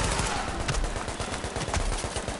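Turret gunfire in The Division underground, a fast, steady stream of automatic shots, loud and close, filling the whole moment.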